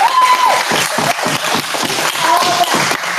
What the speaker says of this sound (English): So a huge like round of applause as well to your leader here as well.